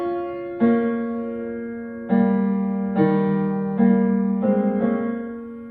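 A slow piano phrase playing the Ring motive leitmotif, single sustained notes and soft chords, each struck note ringing out and decaying, played alone up close.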